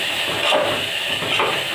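Steady, loud hiss of steam escaping from a pressure cooker during home lunch cooking, a continuous spray with slight surges.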